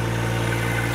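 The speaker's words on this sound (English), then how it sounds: "So I'm not even running the tractor wide open throttle at this point." A tractor backhoe's engine runs steadily below wide open throttle, a continuous close idle-like rumble with a droning low hum and no talk over it.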